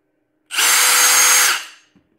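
An Ingco impact driver runs free in a single loud, close burst of about one second, its whine spinning down with a faint click as it stops.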